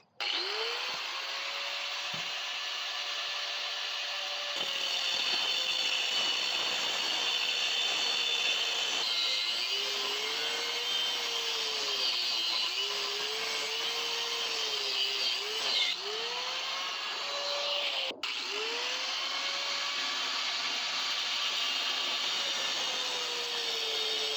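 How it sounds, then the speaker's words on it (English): An angle grinder cuts through the axle of a Coleman CT200U-EX trike while its wheels spin, a steady whirring drone with rising and falling grinding tones, close and sustained for the whole stretch. "He's going to spin the wheels, and I'm going to run a grinder."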